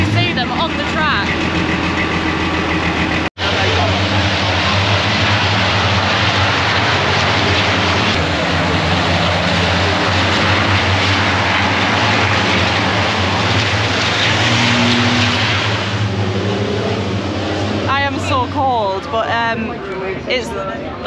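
Racing trucks roar past at a truck racing event, a loud, continuous engine drone filling the air with rising and falling intensity, while people talk over it near the end.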